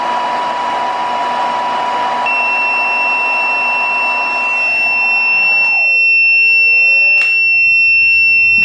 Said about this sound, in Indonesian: Di sini buzzernya berbunyi dan LED 1 sampai 4 itu menyala kedip-kedip sebagai alarm